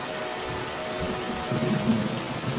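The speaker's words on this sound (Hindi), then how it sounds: "कुछ दिनों बाद बहुत तेज बारिश होने लगी" Heavy rain falling, a dense steady hiss that swells slightly louder in the second half, continuous and close.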